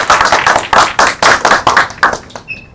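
An audience claps at a Seven Peaks Speaks event, a few hands patting in loose, uneven bursts that rise and fall before trailing off into a brief ringing tone at the end.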